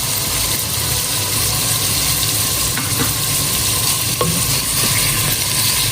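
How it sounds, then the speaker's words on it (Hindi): Chicken cooking with vinegar and soy sauce just added gives a steady, loud broadband sizzle with stirring throughout, a few faint scrapes and clicks on top, and no talking. "2 टेबलस्पून हम सोया सॉस डालेंगे।"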